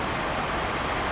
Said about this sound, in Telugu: వర్షం చూడండి ఎలా పడుతుందో.